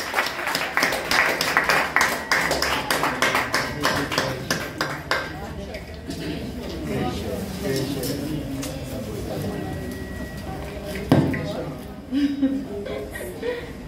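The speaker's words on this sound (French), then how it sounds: "On applaudit s'il vous plaît" Audience at a JCI career-coaching launch event in Guinea applauds to welcome R&B performer Dédé Crusher, a dense burst of clapping that fades after a few seconds into murmuring and voices.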